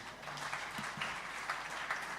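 An audience at a regional state address applauding steadily, a dense, even wash of clapping held at moderate level throughout.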